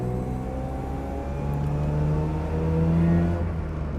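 A 1980 Mazda RX-7 with its rotary engine pulls hard in third gear, giving a steady buzzing drone from inside the car that rises gently in pitch and holds loud throughout.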